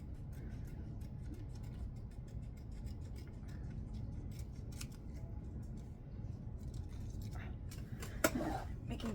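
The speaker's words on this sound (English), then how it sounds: "So if I just trim around" Scissors snip steadily around a Christmas ornament coated in Mod Podge, a soft run of small ticking cuts under faint room noise, with a sharper snip near the end.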